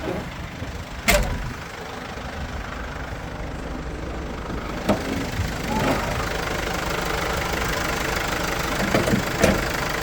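A 2011 Mercedes Sprinter 516 van's diesel engine idles with a steady, rough rumble throughout, close by, with a few faint knocks and clicks over the drone.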